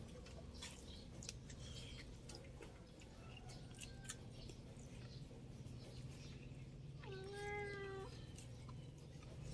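A pet cat lets out a single clear meow near the end, faint against a quiet room with scattered small clicks and taps.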